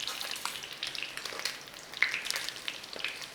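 Sausages fry in olive oil in a pan, giving a steady close sizzle with soft crackles and pops throughout.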